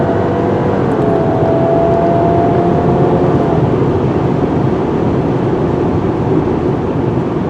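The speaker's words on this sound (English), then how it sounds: "The suspension is doing a great job absorbing the impacts on this washboard road" A 2022 Subaru Outback Wilderness drives over a washboard gravel road, making a loud, continuous rumbling roar of tires and suspension heard from inside the car, steady throughout with no voices.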